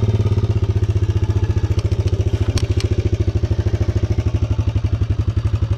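A dirt bike engine idles steadily while warming up just after starting, following a stint with its carburettor drained of petrol; a loud, close, even mechanical putter that carries on throughout, with a couple of sharp ticks partway through.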